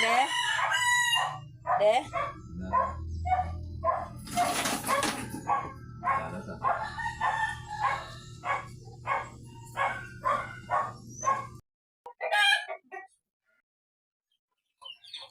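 Roosters crow repeatedly alongside clucking chickens in the space beneath a house, with a dog barking among them; calls come in steady rhythm, fairly close and loud, and a person speaks briefly near the end.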